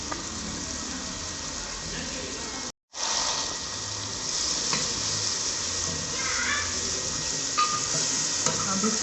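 Spices with salt, chili, black pepper, dried fenugreek and turmeric frying and being stirred in a pan for gobi gosht, a steady close sizzle throughout with faint scraping, no speech.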